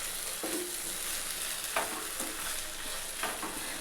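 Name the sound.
stirring yogurt into curry in a pan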